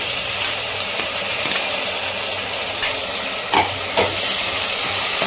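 Chickpea masala with tomatoes and curry leaves sautéing in a pan for a restaurant-style chole gravy, giving a steady broadband sizzle with a few soft stirring scrapes near the end.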